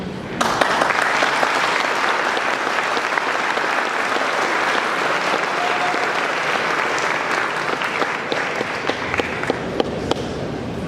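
A banquet audience at a Cadillac LaSalle Club awards dinner applauds the car entrants, a loud, sustained roll of many hands clapping that holds steady for several seconds before thinning toward the end.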